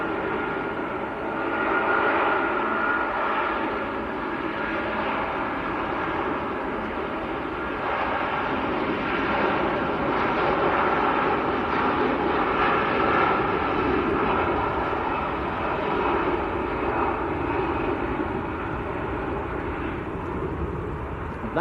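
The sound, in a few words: Jet2 airliner at Manchester Airport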